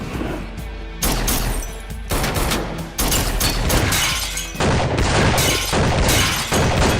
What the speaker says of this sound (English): then they get into a shootout fight